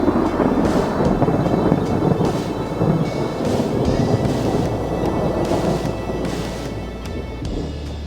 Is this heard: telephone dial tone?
no